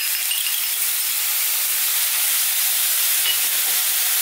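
Beef and broccoli with soy and oyster sauce tossed in a pan over high heat, giving a loud, steady, close sizzling hiss that runs unbroken with no voices.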